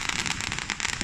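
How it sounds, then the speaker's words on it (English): Fourth of July fireworks crackle and pop in a dense, continuous burst of small explosions along a street, loud and close with no pauses. "Fireworks kind of dying down, but still definitely alive"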